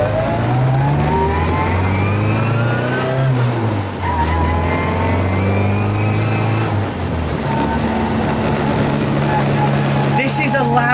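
A Mark 1 Mini Cooper 1275 S racing car with no sound deadening and a straight-cut gearbox, engine loud and close, revving up and down through repeated rising and falling pulls with a whining gear tone, and a voice talking over it.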